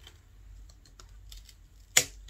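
A single sharp snip as shears cut through a Philodendron stem during air layering, one brief crisp click near the end against a quiet room background.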